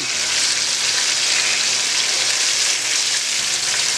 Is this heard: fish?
yes